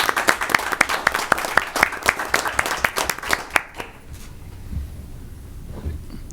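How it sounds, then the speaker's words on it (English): Audience applause at a Union County commissioners meeting, loud distinct claps at first that thin out and fade, leaving quiet room noise. "let's give him a big round of applause for his work here in Union County"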